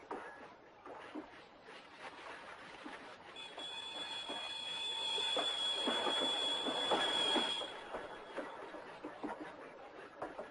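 A passenger train runs along the rails in a steady low rumble with rhythmic clatter, rising louder midway as a thin high wheel squeal holds for several seconds before fading back, no voices.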